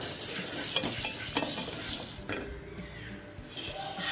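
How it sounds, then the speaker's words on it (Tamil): Chana dal, split chickpeas, is dry roasted in a pan for sambar powder, with the dry lentils rattling and scraping as a utensil stirs them in a close, uneven churning rhythm. "கடலை பருப்பை நல்லா சிவக்குத அளவுக்கு இதே மாதிரி வறுத்து எடுத்துக்கிடுவோம்"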